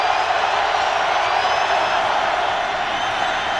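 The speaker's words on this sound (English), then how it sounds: "The Ravens faithful, cheering on their defense." Baltimore Ravens fans roar for their defense in the stadium during a Colts at Ravens NFL game, a dense, steady crowd din holding loud throughout.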